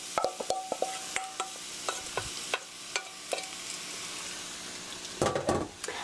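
Sliced onions stir-fried in heated oil in a pan sizzle softly while a utensil scrapes and clicks against the pan in irregular taps, with a cluster of louder stirring near the end.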